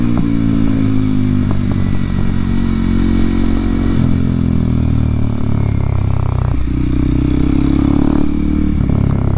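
A 2023 Kawasaki KLX 230SM supermoto single-cylinder engine runs loud and steady while riding through historic streets, with shifting revs, exhaust pops and heavy wind rush throughout.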